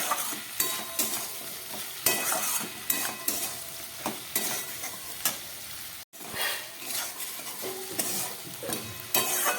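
Okra frying in a pan with spices, chopped tomato and sliced green chilies, a loud continuous sizzle with repeated scraping stirs of a spatula, up close and without talk.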